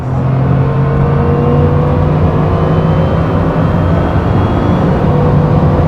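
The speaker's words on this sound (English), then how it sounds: "I've done 208 miles an hour. I want to try and get past 210." A Bugatti Chiron Super Sport pulls hard at over 200 mph, a loud steady engine drone with strong wind and road roar filling the cabin, constant and unbroken with no talk.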